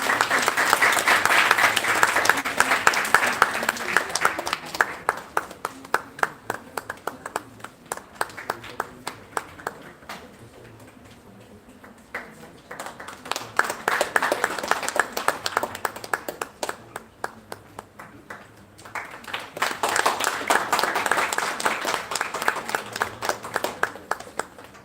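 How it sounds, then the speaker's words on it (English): An audience applauds at a national moot court competition's valedictory ceremony, three waves of dense clapping that swell, fade to a lull, then rise again, fairly close and sustained. "A big round of applause, please."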